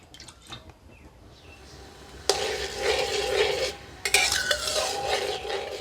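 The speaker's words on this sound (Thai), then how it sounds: "กระทะร้อนแล้วกะทิใส่ไป" Coconut milk pours into a hot wok and bursts into a bubbling sizzle, with scraping and stirring, broken by a brief pause before the sizzling resumes.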